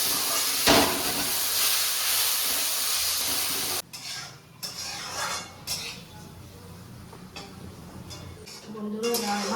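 Dal lentils fry and are stirred in a pan, giving a soft sizzle with scraping and the clatter of a spoon against metal, loud at first and then quieter with intermittent stirring.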